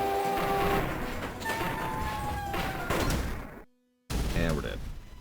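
Turrets firing in the video game Zelda Spirit Tracks, a dense, loud barrage of repeated blasts and crashes laced with thin whistling tones, broken by a brief silent dropout before the clatter resumes.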